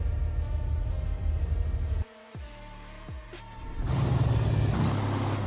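Diesel inline-six car engine in the BeamNG driving game, fitted with an HMT exhaust, idling with a low rumble, then blipping the throttle twice before settling into a louder, rougher steady roar.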